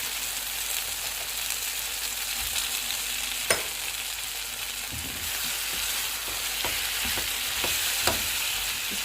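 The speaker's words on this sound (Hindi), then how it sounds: "अब मैं आंच को फुल कर दूंगी और इसको मैं भूनूंगी 3-4 मिनट के लिए।" Tawa chicken sizzles and fries on a hot griddle over a full flame, a constant crackling hiss broken by a few sharp scrape and stir clicks of a utensil, with no talking.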